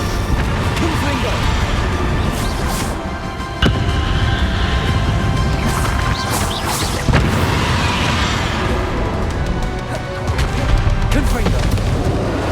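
Hogwarts Legacy combat with repeated Confringo explosion spells, dense booming blasts and sharp bursts layered over continuous battle noise and voices throughout.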